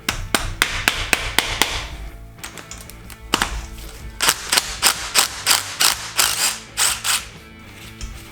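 A DeWalt power tool works on a turbo LS engine in a street truck, firing off rapid, loud mechanical bursts and ratcheting hammer-like rattles, pausing briefly, then resuming in pulsing runs close to the listener.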